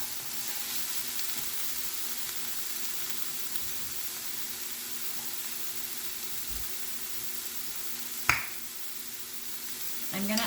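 Spices and onions fry in a pan with a steady, soft sizzle and hiss, broken by one sharp pop near the end.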